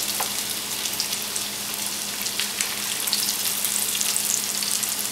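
Chickpea falafel fry in hot oil with a steady, dense sizzle and scattered crackles and pops, close and continuous without any talking.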